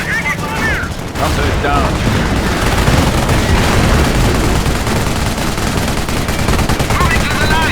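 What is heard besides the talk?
gunfire in Company of Heroes video game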